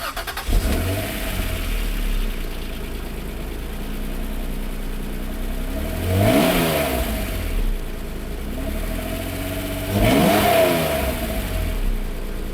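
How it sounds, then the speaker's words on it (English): An Acura NSX engine with its stock exhaust starts and idles with a steady hum, then revs up sharply twice, each rise and fall clear and close. "This is what the car sounds like with the exhaust that's on it right now."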